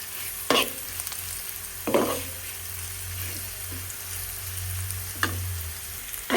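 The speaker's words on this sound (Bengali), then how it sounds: "একটু সুন্দর কালার আনার জন্য একটু ব্রাউন কালার করে ভেজে নেব" Boiled pointed gourd peels browning in hot oil, a continuous close sizzle broken by a few sharp scraping stirs of the spatula against the pan.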